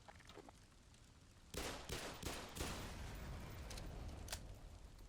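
Gunfire in the video game Black Mesa: a sudden volley of sharp, loud shots after a quiet stretch, followed by sustained combat noise and one more distant crack.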